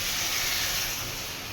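Water poured into a hot pan of fried potato and squash sets off a steady, loud steam hiss that holds evenly and tapers slightly at the end.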